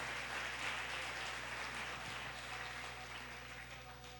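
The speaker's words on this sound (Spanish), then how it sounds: "Dale un aplauso a Dios de los cielos." A church congregation applauds during a family worship service, a faint, distant spread of clapping over a low steady hum that fades slightly toward the end.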